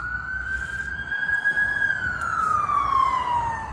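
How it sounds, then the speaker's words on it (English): An emergency vehicle siren wailing outside a supermarket, one long rising and falling tone that sweeps up, holds, and slides down, loud and fairly near over steady street noise. "So you might hear more sirens coming soon."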